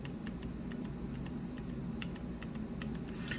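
Rapid, irregular clicking of mechanical keyboard switches on a fidget toy, crisp and close, repeating steadily over a low background hum.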